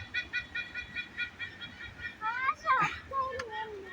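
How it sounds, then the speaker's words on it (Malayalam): Repeated harsh, honking bird calls in a steady rhythm, followed by a rising squawk, with people talking nearby at Bekal Fort in Kasargod, Kerala. "നോക്കടാ നോക്കടാ, ഒരു പക്ഷി."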